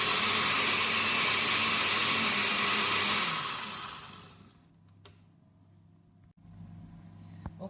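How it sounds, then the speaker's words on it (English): Guavas blending with about two cups of water in a kitchen blender, a loud steady motor whir for several seconds that then cuts off, leaving faint clicks and handling noises. "So now I put them in the blender and I'm going to add some water. So about 2 cups of water and I'm going to blend."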